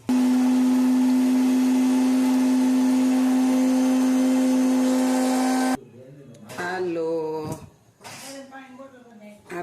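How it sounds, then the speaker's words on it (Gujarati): A mixer grinder whirs loudly and steadily, grinding green turmeric chutney with cumin, with a droning hum for several seconds, then shuts off and a person begins talking. "અને હવે આપણે આને મિક્સરમાં પીસી લેશું"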